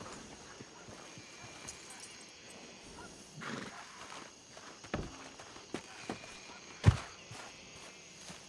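Horse at a ranch, heard faintly: soft hoof steps and scattered thuds against a quiet background, with one sharper knock near the end.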